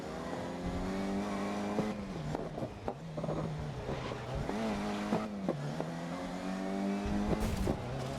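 In the racing video game Grid 2019, a car engine drones steadily and loudly, its pitch rising and dropping with gear shifts and a scratchy edge, with brief tire squeals and no talking.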